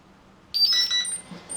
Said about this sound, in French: on a entendu un bip, le bip de la télécommande